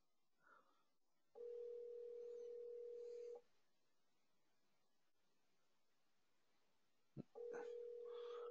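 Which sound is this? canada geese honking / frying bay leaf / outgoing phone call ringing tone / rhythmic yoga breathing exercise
outgoing phone call ringing tone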